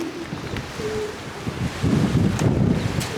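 Wind gusts across an open loft area as racing pigeons come home from a toss, a steady rushing blow that swells louder in the second half, with faint bird sounds mixed in.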